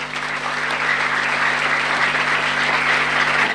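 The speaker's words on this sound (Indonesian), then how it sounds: "Tepuk tangan." Audience at an Islamic religious history lecture applauds steadily, a dense even clapping from many hands that holds at the same loudness throughout without a break.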